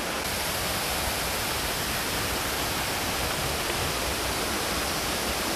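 A small jungle waterfall on Samui, Thailand, gives off a steady, full rushing hiss of falling water, close and unbroken throughout with no voices.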